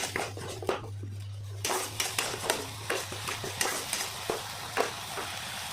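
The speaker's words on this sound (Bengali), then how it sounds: "এটাকে এখন ভালো করে কষিয়ে নিব।" Spice paste sautéing in a pan for a Bangladeshi mete chorchori, with steady sizzling and frying under repeated rhythmic scrapes and clinks of a spoon against the pan, close and fairly quiet.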